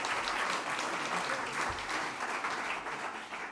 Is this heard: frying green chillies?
no